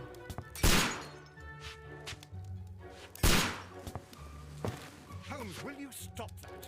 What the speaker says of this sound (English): It sounds like the gunshots are super loud